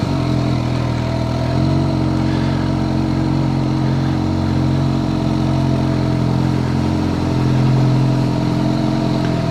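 A Kawasaki H2 SX motorcycle rides along with a steady, loud engine drone and low mechanical clatter, the tone holding fairly constant throughout with no talking.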